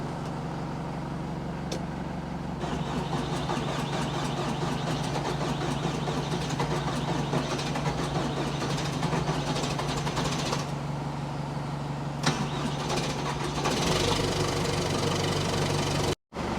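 A 5525 tractor engine runs at a steady diesel idle, a loud low rumble with knocking texture lasting throughout, ending with an abrupt cutoff near the end.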